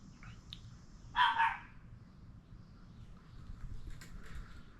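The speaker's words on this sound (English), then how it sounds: "The dog." A dog gives a short burst of barking in the middle, moderately near, over a low background rumble in a home garage workshop.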